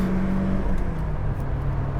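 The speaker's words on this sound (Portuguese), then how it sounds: "O motor sobe muito bem de rotação." A Mercedes-Benz 190E 2.5-16 Evolution II sedan engine revs high in the rev range, a steady loud drone with a slight dip in pitch, heard close and alone.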